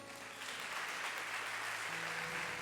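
A church congregation claps in steady, continuous applause, a dense even patter of many hands filling the room with no voices on top.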